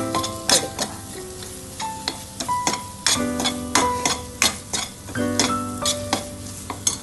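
Chickpea curry being stirred in a pan after a pinch of salt is added, with repeated scraping strokes and a soft sizzle underneath, close and fairly loud, no talking.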